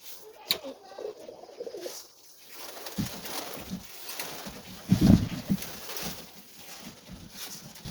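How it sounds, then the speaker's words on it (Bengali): Pigeons coo inside their pigeon house, soft low murmuring calls scattered through the stretch with one louder, nearer burst midway, amid faint rustling and handling noises. "এখন আমি কবুতরের ঘরে কবুতরদের খাবার দিচ্ছি"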